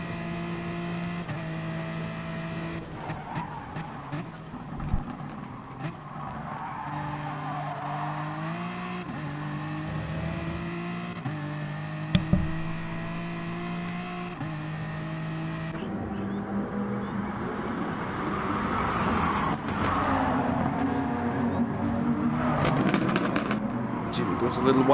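An on-board view of a BMW touring race car at Autopolis in GT Sport: the engine drones steadily, its pitch rising and falling through gear changes, with occasional sharp pops. A commentator talks over it throughout.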